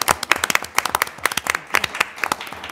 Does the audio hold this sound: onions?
no